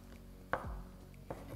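Two sharp, quiet knife chops on a board a moment apart, cutting ingredients small for a chickpea plov with chicken, over a low steady background.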